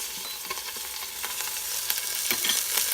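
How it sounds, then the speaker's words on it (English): Beef roast searing on saute mode in an Instant Pot, with a continuous close hiss and crackle of browning meat that grows slightly louder. "once your roast has browned up a little bit in your Instant Pot in your saute mode"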